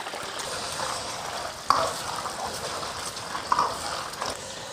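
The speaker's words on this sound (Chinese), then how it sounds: "油温升至6成热下，皮蛋也过一下油" Century eggs frying in hot oil give a steady, soft crackling bubble throughout, moderately close, with a couple of faint clicks of a utensil against the wok.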